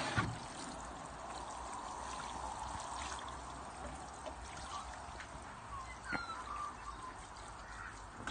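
Water pours steadily into a container of growing media, a continuous trickling stream heard close up for several seconds with small splashes and faint background sounds.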